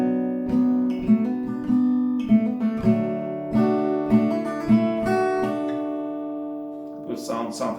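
An acoustic guitar strums the chords of a song with the melody worked in, steady downstrokes ringing clearly and alone at close range.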